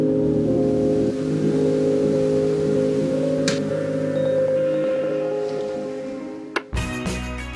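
A car engine hums steadily from inside the vehicle on a drive out to the coast in Japan, a constant drone with a brief clunk near the end.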